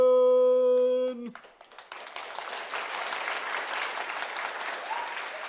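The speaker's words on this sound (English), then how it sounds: "Oh, that's way too much applause." Studio audience applause on a comedy show: a sustained electronic tone cuts off abruptly, then a moderate, steady wash of clapping from a crowd continues for the rest of the moment.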